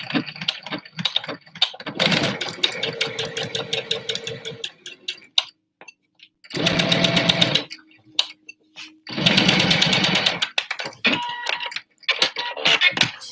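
A regular sewing machine stitches a Batwing pattern face mask in several bursts, fast even needle chatter starting and stopping, with a hum and scattered clicks and taps between runs.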